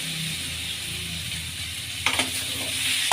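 Chopped radish drops into a hot tempering of ajwain and green chillies, kicking up a sudden burst of sizzling and crackle about two seconds in over a steady background hiss.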